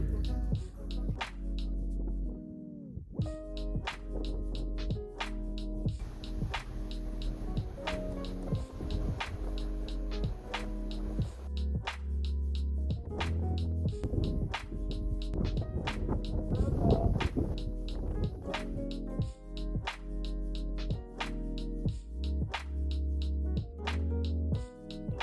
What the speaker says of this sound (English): So this is the cistern.